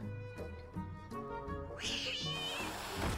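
Black Cat minion meowing in Hearthstone, a short game cat meow followed by a burst of bright chiming card effects under game music.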